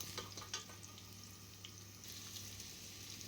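Chicken fries steadily in a pan as ginger is added for tinola, a soft, even sizzle with faint stirring clicks and light taps, heard alone without talking.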